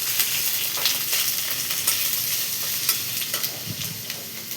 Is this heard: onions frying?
yes